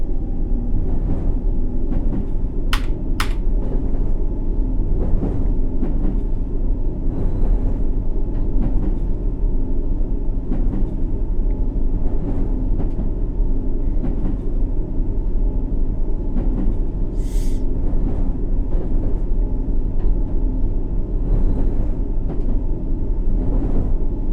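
A Circle Line train in the World of Subways game runs with a steady low engine rumble and continuous rolling wheel noise, loud and unbroken, with a few brief higher squeals and clicks.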